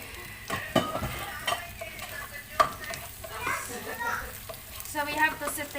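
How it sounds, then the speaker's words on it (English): Vegetables with chopped carrots sauté in a pan for chicken manchurian, with a soft ongoing sizzle under intermittent spatula stirs and utensil clinks, while voices and household sounds carry on in the background. "So we have to saute the vegetables like for 2 minutes before we put the other ingredients."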